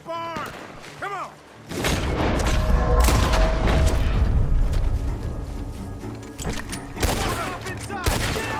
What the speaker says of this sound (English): The gunshot! We're coming from that barn!